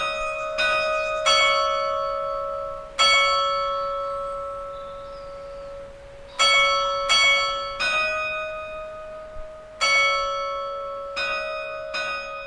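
Carillon bells are struck in a slow melody, each clear, ringing tone decaying long into the next, about eight strikes, fairly close and heard alone without talk.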